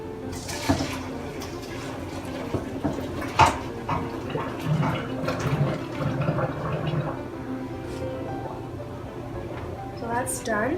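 Water pours and gurgles out as cooked manicotti pasta shells are drained, a sloshing stream with splashes and drips, while a person talks over it.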